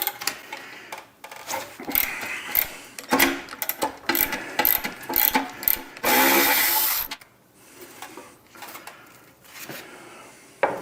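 A ratchet works bolts loose from the rear fender of a Harley-Davidson Softail, giving quick bursts of clicking near the mic, a sustained loud mechanical whir in the middle, then quieter scattered handling noises.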